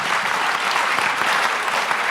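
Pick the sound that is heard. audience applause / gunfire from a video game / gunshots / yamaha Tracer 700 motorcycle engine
audience applause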